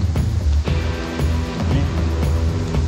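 A steady, loud rush of falling water fills the scene nearby, with a few faint knocks and bumps over it.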